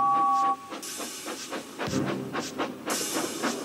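Chuffing steam engines hauling trucks uphill, with rhythmic hissing puffs and bursts of steam, fairly close, working hard at a slow, labored pace.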